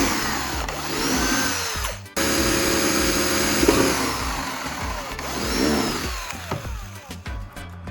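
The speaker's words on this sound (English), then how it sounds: "I'll drill 2 holes at the marked points on the sides of the jug." A power drill whirs steadily, its pitch dipping and rising as it bores holes in the sides of a plastic jug, with a brief pause partway through.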